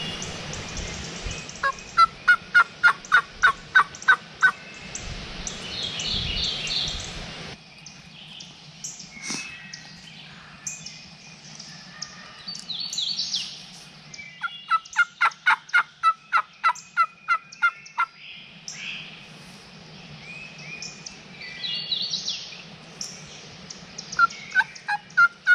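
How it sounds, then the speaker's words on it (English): Wild Illinois gobblers sound off outdoors, with several rapid rattling gobbles in bursts near the start, mid-clip and at the end, mixed with other birdsong under a steady background hum. "the turkey finally gobbled in the same spot"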